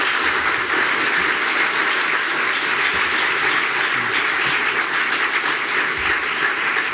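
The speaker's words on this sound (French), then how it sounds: "Vous pouvez les applaudir." Audience applause at a French conference on cryptocurrency fills the room as a dense, steady roar of many hands clapping, loud and continuous for several seconds without speech.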